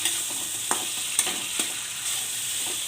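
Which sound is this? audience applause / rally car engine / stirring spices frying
stirring spices frying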